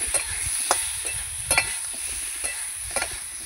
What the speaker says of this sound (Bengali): দিয়ে আমি আবার ভালো করে নাড়িয়ে নেব